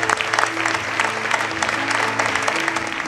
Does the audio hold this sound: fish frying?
no